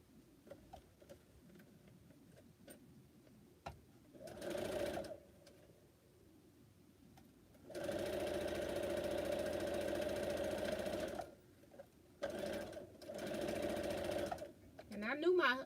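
A sewing machine stitching a quilt runs in three bursts: a short one, a long steady run, then another short run, with a person talking between and over the stitching.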